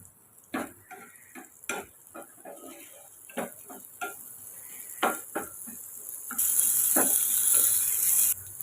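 Sliced large onion sautéing in oil in a pan for a chicken fry recipe, with repeated sharp spatula taps and scrapes over a quiet sizzle that swells into a louder, steady hiss toward the end.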